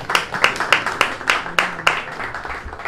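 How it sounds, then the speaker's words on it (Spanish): Applause at a theatre press conference: a short burst of rhythmic hand clapping from a small group, about ten crisp claps in a row, fairly close. "Un aplauso para Samuel."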